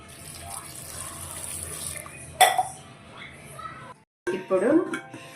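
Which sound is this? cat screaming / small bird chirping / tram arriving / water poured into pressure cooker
water poured into pressure cooker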